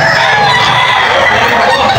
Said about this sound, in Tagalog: Ito yung mga dala niyang manok.